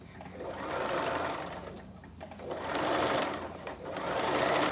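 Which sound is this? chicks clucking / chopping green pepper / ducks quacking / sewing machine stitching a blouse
sewing machine stitching a blouse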